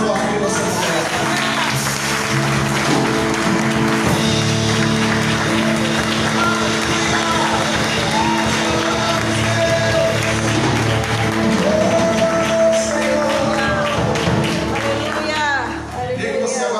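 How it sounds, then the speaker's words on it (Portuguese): A church congregation claps for Jesus during a worship service, with loud, dense applause blended with music and voices throughout. "Erga sua mão e aplauda Jesus o mais forte que você puder."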